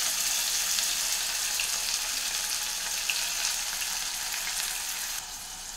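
Chopped onion sizzles in hot oil with mustard seeds and cumin, a steady, fairly loud hiss of frying that continues evenly throughout, easing slightly at the very end.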